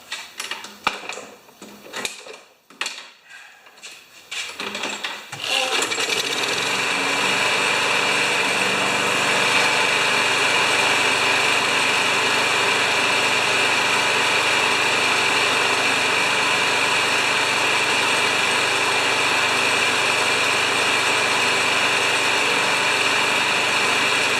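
A Craftsman EZ2 lawn mower engine gets a few irregular cranking bursts, then catches around five seconds in and settles into a steady, loud, unbroken idle drone for the rest of the clip.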